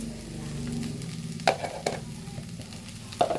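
Chicken and drumstick stir-fry with crushed chilli is stirred in a pan. A soft sizzle runs underneath, broken by a few clear clacks of a spoon against the pan.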